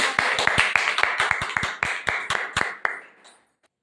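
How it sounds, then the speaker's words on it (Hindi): Audience at a health talk on anaemia welcoming the presenter with clapping: about fifteen sharp, distinct claps from a small group in a quick uneven rhythm, fading out and ending in near silence. "जोरदार से तालियों से स्वागत करते हैं।"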